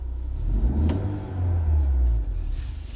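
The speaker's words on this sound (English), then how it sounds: "Now, if I turn the vehicle on" A 10th-generation Honda Accord engine running at idle after start-up, a steady low rumble with slight rises in level, close by and alone with no talking.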